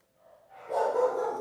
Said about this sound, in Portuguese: vou pausar que os cachorros estão latindo da rua